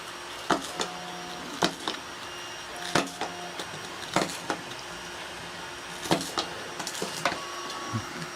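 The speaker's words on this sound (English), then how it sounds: "you should be able to start taking the nut driver and popping them through" Nut driver pressing metal traction pins through Fish Sherman bike pedals, a series of sharp separate pops and clicks spaced about a second apart, close up and fairly loud over quiet background.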